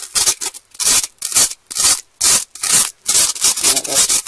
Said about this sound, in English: if you have a piece that needs to be sanded down, use another piece of styrofoam